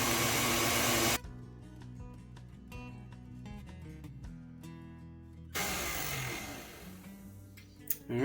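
An electric mixer running on medium speed, beating elderflower lemon cake batter in a kitchen, a steady motor whine with a brief drop in pitch midway before the louder whirr returns, close and continuous.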